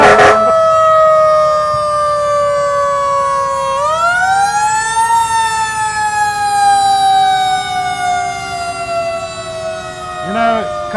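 Fire engine sirens wail loud and close at a Fourth of July parade in Harrisburg, one rising and falling tone sliding upward mid-clip, with brief horn or siren bursts near the start and end.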